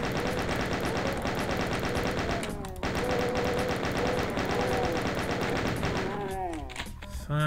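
Chaingunner enemies in Doom fire their chainguns in loud, rapid, sustained bursts. The stream of gunfire dips briefly, then resumes before fading near the end.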